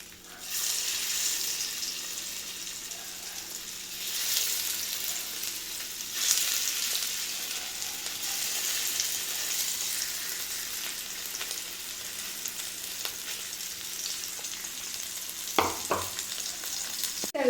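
Small fish frying in oil for a Kerala-style fish curry gives a continuous bright sizzle, fairly soft and steady, with a few clatters near the end.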